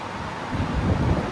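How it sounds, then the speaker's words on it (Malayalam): Strong wind gusts roar against the microphone in a broad, buffeting rush that swells slightly midway, with no voices. "എന്താ കാറ്റിട്ടോ, നല്ല കാറ്റുണ്ട്."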